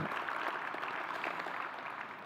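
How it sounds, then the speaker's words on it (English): An audience claps at a 2019 STEM education and workplace partnerships summit: steady, soft applause from a crowd heard at a distance, lasting a couple of seconds and thinning toward the end. "How about a round of applause for all the STEM Best models portrayed today?"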